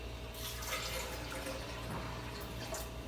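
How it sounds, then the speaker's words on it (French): A glass of water pours into a blender jar, a brief close splashing and trickling fill that runs steadily for a few seconds with no talking. "Vous ajoutez un verre de l'eau."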